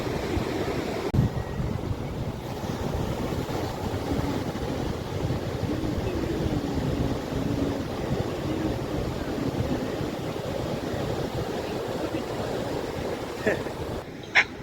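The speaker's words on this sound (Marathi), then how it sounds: "आणि लाटा पण बघा कसल्या उसळल्या आहेत, एकदम जोरदार अशा" Strong sea waves surge and crash continuously at Arnala beach just after heavy rain, a dense, loud roar of surf with gusty wind noise throughout.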